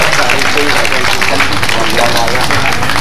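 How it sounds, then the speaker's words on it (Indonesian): A large crowd at an event in Indonesia breaks into loud, dense applause that fills the space, with a murmur of voices underneath throughout. "Sekali lagi beri tepuk tangan yang luar biasa."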